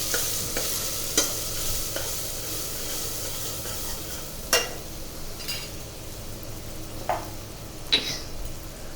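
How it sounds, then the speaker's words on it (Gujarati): A spatula scrapes and clacks through potatoes and black-eyed peas with cumin, turmeric and chili in a hot pan, with occasional sharp knocks over a steady low sizzle. "હવે આપણે તેને મિક્સ કરીશું"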